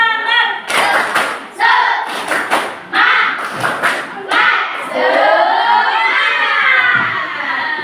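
A group of schoolchildren in a classroom do a rhythmic spirit clap, sharp claps and thumps in set patterns mixed with loud shouted chanting, then a sustained chorus of children's voices calling out together.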